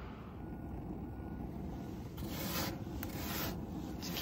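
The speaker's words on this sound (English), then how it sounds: "So now I'm gonna oil the grates with some avocado oil." Grill grates on a hot grill being wiped with avocado oil: a soft, continuous rubbing and scraping, close and quiet, growing slightly louder toward the end.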